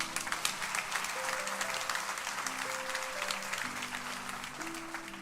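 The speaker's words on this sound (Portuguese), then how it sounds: "Pode aplaudir com vontade." A church audience applauds with dense, sustained clapping that stays even throughout. A soft organ or keyboard chord sequence plays underneath.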